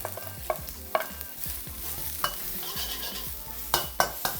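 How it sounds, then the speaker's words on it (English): Ginger and garlic frying in hot oil, with a quiet steady sizzle broken by several sharp spoon-on-pan clinks and scrapes as they are stirred, over soft background music. "And then we can fry our aromatics and our veg."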